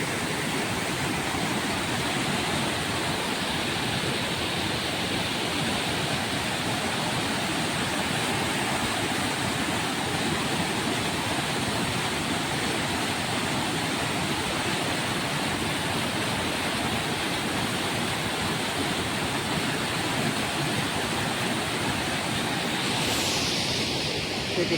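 The Krishna river rushes strongly past a riverside spot near Soneshwar temple, a loud, unbroken broadband roar of flowing water, steady throughout.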